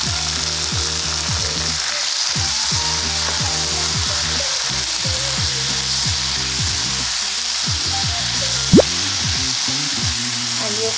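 Vegetables frying in a pan with mushroom sauce and sesame oil: a constant, close sizzle broken by quick repeated scraping strokes of a spatula stirring, with one sharp knock near the end.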